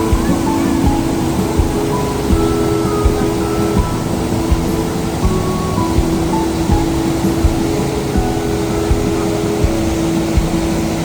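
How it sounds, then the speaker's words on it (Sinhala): The Rhine Falls waterfall gives a loud, continuous broadband roar that stays dense and steady throughout, with faint crowd noise mixed underneath. "මේ දියැල්ලේ සද්දේ ඉන්න ඔයාලට ඇහෙනවද දන්නේ නැහැ."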